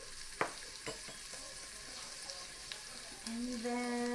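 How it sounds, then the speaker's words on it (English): Onions sautéing in an Instant Pot give a soft, steady sizzle, with a few sharp stirring clinks and scrapes along the way. A rising tone enters near the end. "just make sure my onions aren't cooking to the bottom here"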